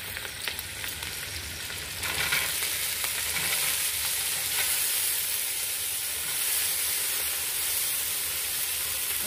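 Green beans and carrots sizzle and hiss in a hot pan, a loud, steady frying sound close by with occasional stirring and no talk.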